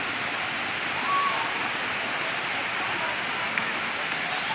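Hinulugang Taktak waterfall in Antipolo gives off a steady, full roar of falling water that continues unbroken throughout, with no clear talk over it.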